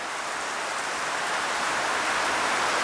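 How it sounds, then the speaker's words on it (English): Heavy rain pouring down steadily, a dense, even hiss of drops that stays close and loud without any pause, with no voices present. "It's still chucking down rain."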